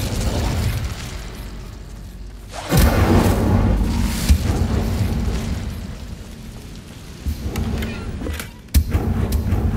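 Incendio fire spell cast in the video game Hogwarts Legacy, producing a loud whooshing burst of flame that flares up, roars steadily, and hits a second sharp blast near the end, all over a continuous rumbling game backdrop.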